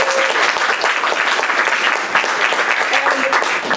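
Audience applause in a small theatre before an improvised Shakespeare show, a steady burst of clapping from many hands close by, with a few voices mixed in.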